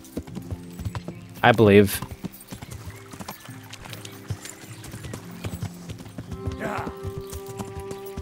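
Horse hooves clip-clop at a riding pace in the video game Kingdom Come: Deliverance, with a brief neigh-like burst early on and someone speaking briefly over the rhythmic steps.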